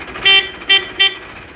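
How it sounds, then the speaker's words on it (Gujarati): A Mahindra 395 tractor's horn gives three short, loud toots close by, the first slightly longer than the other two, over a low idle background. "હોરન મોટું હોરન છે."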